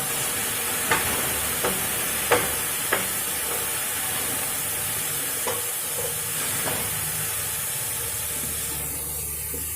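Tomatoes with rock salt cooking in a pan, a steady sizzle and hiss broken by a few short stirring scrapes, close and fairly loud, with no talk.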